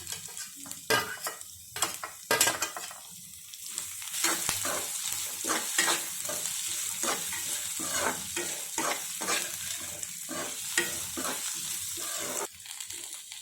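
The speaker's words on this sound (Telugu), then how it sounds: "ఇప్పుడు క్యారెట్ ముక్కలు వేసుకుని కొంచెం ఫ్రై చేసుకున్నాం" Carrot pieces frying in a pan for semiya upma, a continuous sizzle broken by repeated scraping strokes of a spoon stirring against the metal, close and fairly loud.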